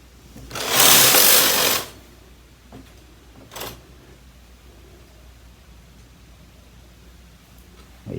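A KH930/KH940 knitting machine carriage sweeps across the bed in one loud rasping pass, followed by a fainter second slide and quiet clicks.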